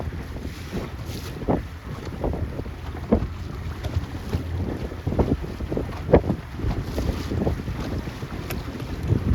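Strong wind roars across the microphone aboard a 29er sailboat running fast downwind in a good breeze, with rhythmic surges of water rushing and slapping against the hull throughout.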